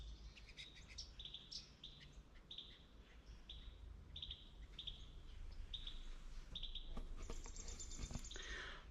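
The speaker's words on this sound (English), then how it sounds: "You can hear the birds." Birds sing along a quiet trail in the Santee Coastal Reserve, South Carolina, with repeated bright chirps and short whistled phrases at moderate distance over a soft outdoor hush, no talking.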